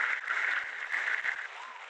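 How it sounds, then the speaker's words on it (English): A short round of applause from a crowd, a dense steady patter of clapping held for about two seconds before thinning slightly toward the end, with no voices over it. "Round of applause for my guy,"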